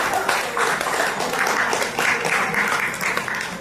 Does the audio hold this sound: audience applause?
yes